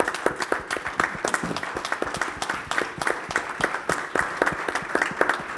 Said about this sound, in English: if you would allow me to give them a round of applause